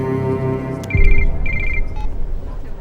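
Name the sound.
phone ringing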